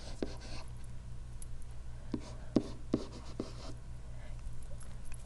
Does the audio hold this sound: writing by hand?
yes